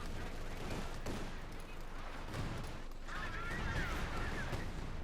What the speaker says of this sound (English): that was a bit of weird artillery strike